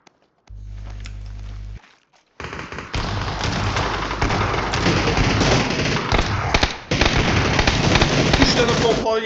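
Dense, loud game gunfire and impacts from a PUBG firefight, with shotgun blasts mixed into a continuous barrage of shots and rumbling hits after a short low hum and a brief pause.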